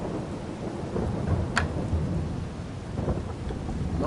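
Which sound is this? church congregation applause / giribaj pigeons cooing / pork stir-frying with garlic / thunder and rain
thunder and rain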